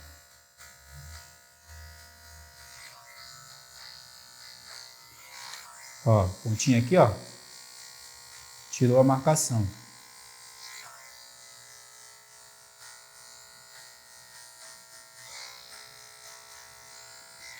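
Electric hair clipper trimming a low fade, its tip used to mark the line: a faint steady motor hum runs throughout, with two short louder buzzing bursts as the blade meets hair, while someone talks quietly.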